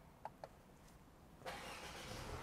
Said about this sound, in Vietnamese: Đi nổ máy lên nha.